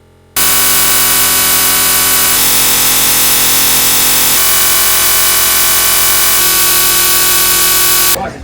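Motor taxi engines drone loud and close in an Amazon river town in Peru, a harsh buzzing roar that shifts in pitch as they pass and fades at the end.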